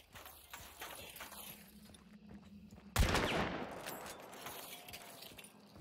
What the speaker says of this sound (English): he's shooting from the window